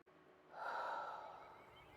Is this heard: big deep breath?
yes